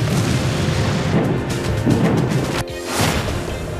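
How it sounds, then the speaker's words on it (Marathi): Bomb explosions during the bombardment of Ukrainian cities, heavy booming blasts and rumbling crashes layered loudly over one another, with one sharp drop before the roar resumes. "जागोजागी स्फोट"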